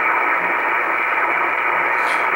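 Shortwave radio receiver tuned near 6300 kHz in upper sideband mode, giving a steady, loud band of hiss and static with no voice or distinct signal, continuous throughout.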